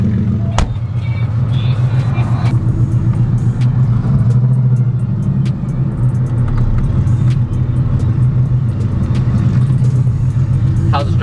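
A Porsche 964 engine drives through downtown streets, a loud, steady low rumble that fills the whole stretch with constant throbbing and slight swells of revving.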